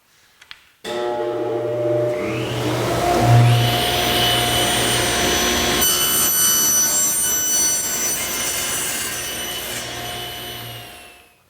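Power saw cutting 3/4 inch plywood strips for a clamp rack, a loud continuous whining cut lasting about ten seconds with a raspy, rubbing texture, alone with no voices.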